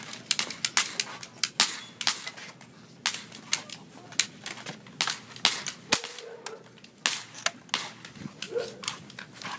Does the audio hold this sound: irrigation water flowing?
no